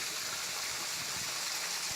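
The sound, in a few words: small waterfall on the slope of Mount Sunda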